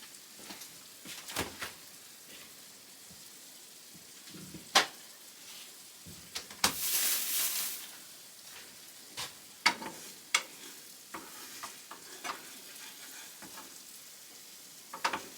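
Eggs and vegetables sizzle in a pan for a home kitchen stir-fry, a steady quiet frying hiss broken by scattered clicks and stirring scrapes, with one louder burst of spitting partway through.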